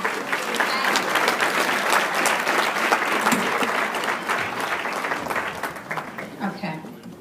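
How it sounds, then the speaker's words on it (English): Sustained applause from an audience at an NAACP chapter keynote address in Buffalo, NY, a dense, loud wash of many hands clapping that holds steady for several seconds and then begins to thin and fade at the end. "can you give yourselves a round of applause for being absolutely fabulous?"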